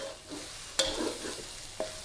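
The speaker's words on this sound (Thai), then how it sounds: "ผัดนะคะ ให้ไข่สุกค่ะ" Eggs are stir-fried with garlic pork in a hot wok, giving a soft, steady sizzle broken by two sharp scrapes of a utensil against the pan, all quiet and close.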